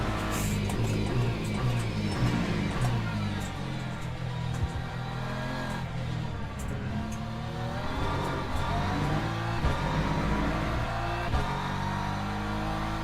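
Race car engines roar in Le Mans Ultimate, a steady loud drone of revving and shifting pitch as cars including a Porsche, BMW and Lexus run close together, with no talking.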